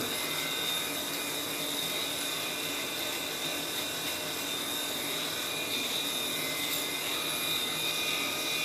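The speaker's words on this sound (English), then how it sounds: "this is an electric razor, believe it or not" A Norelco electric razor buzzes continuously with a steady high-pitched motor whine and dense rasping noise, unbroken throughout, with no talking.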